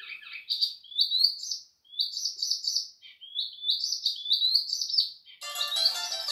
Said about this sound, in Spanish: Qué bonito esos pajaritos. Qué bonito, deben de ser ruiseñores